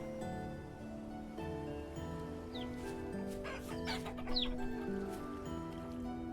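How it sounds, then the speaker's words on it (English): A rooster in the survival game Vintage Story clucks repeatedly over a steady ambient music bed, with short chirping bird calls mixed in. "Oh, you're a straight-up rooster now."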